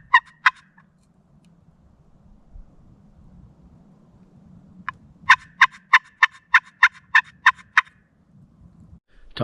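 A Merriam's wild turkey gobbles in the distance outdoors: a quick double burst at the start, then a long run of about ten rapid rattling gobble notes, over faint wind rumble.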